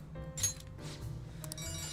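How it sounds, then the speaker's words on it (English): A phone rings in the video game Persona 5 Royal, a short electronic ringtone of bright repeating tones over a quiet game music background. "Phone call. Ring, ring."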